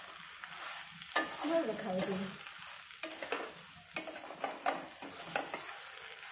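Dhaba-style bhindi do pyaza, okra with onions, being stirred in a frying pan: a steady close sizzle with several louder scraping stirs, and a brief word spoken once.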